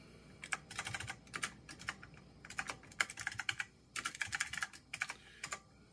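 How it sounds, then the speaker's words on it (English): Rapid bursts of keystrokes on a computer keyboard, clear and close, come in quick clusters separated by short pauses, as someone enters a line at an Apple II-style AppleSoft prompt; no talking. "I type in a line and then I type Control A"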